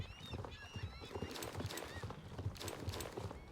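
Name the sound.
horse hooves clip-clopping while riding in Star Stable Online video game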